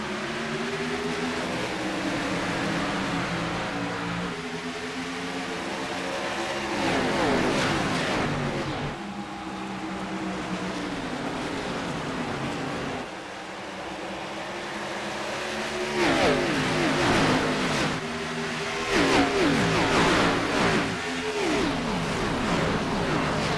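Race cars roar off at the start of the AREA Lodgebox Series season finale at Nashville, engines revving and rising in repeated acceleration sweeps as the pack passes, loud and continuous with no talk.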